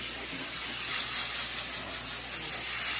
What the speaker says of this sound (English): So this is air? Yeah, it's steam.